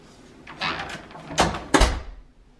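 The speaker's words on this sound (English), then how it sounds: "Close the door." A household door closed at home, with soft rustling and movement followed by two sharp, loud thuds close by.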